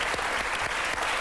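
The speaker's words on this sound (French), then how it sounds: "alors on applaudit Philippe Manœuvre, LOL, on applaudit tout le monde." Studio audience applause on a French television talk show, a dense, loud burst of clapping filling the whole moment with no voice over it.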